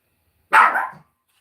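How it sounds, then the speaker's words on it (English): A single sharp bark from a nearby dog, loud and brief, surrounded by silence. "Wendy, please stop barking."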